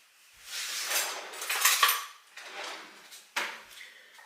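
A spoon scrapes and clinks around a bowl as powdered sugar and milk are mixed into a glaze for cinnamon swirl bread, in bursts of rapid clattering stirring with short pauses, close up and without talk.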